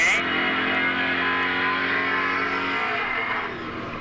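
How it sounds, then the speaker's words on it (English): A Ford Mustang drag car launches off the line at a drag strip, a loud sustained engine roar holding steady, then fading slightly as it pulls away, with an announcer's voice faintly underneath. "There we go, the Mustang is off."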